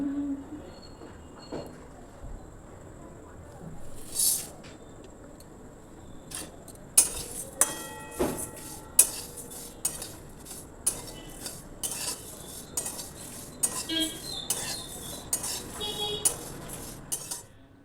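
A metal spatula scrapes and clinks against a dry wok while dry-roasting spices, in irregular bursts, with scattered sharper knocks throughout and no one speaking.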